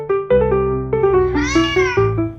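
A cat meows insistently for food in a run of repeated drawn-out calls, one rising into a longer plaintive wail, close and clear with no other sounds.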